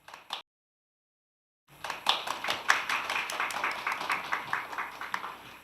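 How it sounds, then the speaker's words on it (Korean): At a demo day event, an audience applauds to welcome the first presenter, a director from a social venture; a brief burst cuts off, then after a silent gap crowd clapping resumes, building into a lively, steady patter of many hands. "무대 첫 순서인 만큼 큰 박수로 환영해 주시기 바랍니다"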